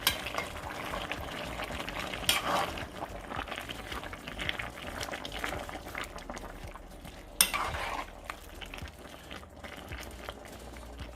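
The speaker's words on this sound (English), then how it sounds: "And remember, it has to be frozen green beans. And I'm just gonna stir it in." Frozen green beans being stirred into a pot of Canadian beef stew: a soft, steady bubbling and stirring with occasional utensil knocks against the pot, close and fairly quiet, and no speech.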